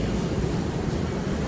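Ocean waves at a sunny dog beach, a steady broad wash of surf mixed with wind rumble, continuous and fairly loud with no voices.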